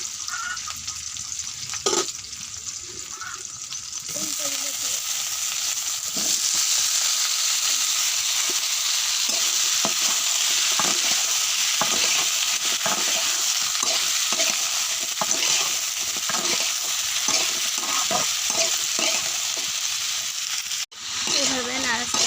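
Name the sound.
stirring food frying in a pan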